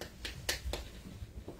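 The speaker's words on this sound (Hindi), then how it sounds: "हल्की सी यूं ताली बजाई" Light hand claps, three quick soft ones close together, sound faint and crisp against a quiet room.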